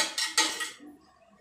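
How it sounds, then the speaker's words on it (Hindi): A spoon stirs sugar into food in a pot, making a few bright metallic clinks and scrapes against the pot that fade out after under a second, followed by near silence. "अब इसको हम मिक्स कर लेंगे जो हमने चीनी डाली इसमें"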